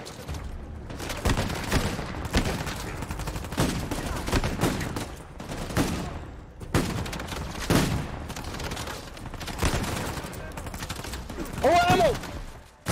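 Rapid bursts of gunfire from a revolver and other weapons ring out in a firefight in the action video game Uncharted 4: A Thief's End, loud and repeated throughout, with a player talking over the shooting.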